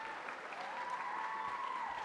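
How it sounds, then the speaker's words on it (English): Faint, distant clapping from an award ceremony audience, a brief steady patter of many hands heard from afar. "if you could hold your applause to the end"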